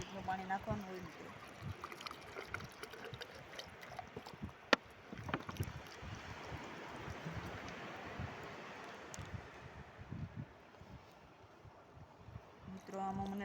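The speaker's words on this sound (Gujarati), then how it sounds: "આવી રીતનું પાણી નાખવાનું હોય મિત્રો." Water poured from a container into a crab burrow on a sandy beach, a steady trickling splash under constant wind and surf noise, with a sharp knock partway through.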